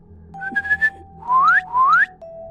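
A person whistles a short tune, a few quick notes followed by two rising, sliding phrases, clear and fairly loud over a faint steady hum.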